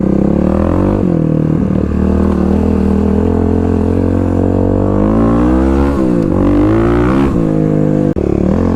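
A Kawasaki KLX351 dirt bike on Tusk Dsport tires is ridden at a fast pace through corners, its engine loud and close throughout, rising and falling as the throttle opens and eases off.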